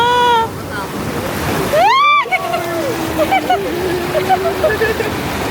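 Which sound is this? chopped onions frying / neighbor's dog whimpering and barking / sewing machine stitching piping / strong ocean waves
strong ocean waves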